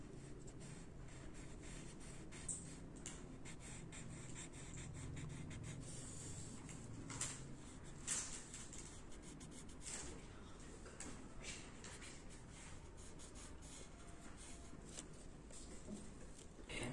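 Pencil scratching across paper while a dura mater sheet is drawn around a spinal cord histology section, a faint, steady, close rubbing with occasional sharper strokes, no talking.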